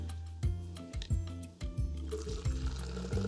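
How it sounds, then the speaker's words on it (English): Water poured into a mug for a mushroom coffee latte made with amanita: close splashing, trickling fill with a few knocks and clinks, short and steady, no talk. "And I'm adding water"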